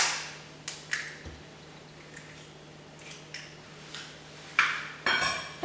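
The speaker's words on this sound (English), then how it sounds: "I'm going to crack 1 egg into another bowl" An egg is cracked into a bowl: a few light taps against the rim, then a sharper crack and a wet drop, close and clear in a quiet kitchen.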